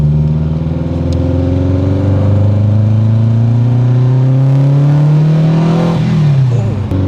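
Homologated Renault R5 Turbo 2 Group B road car fitted with a Devil's Exhaust, its engine revving up loud and close in a long rising pull before dropping off, with a brief voice underneath.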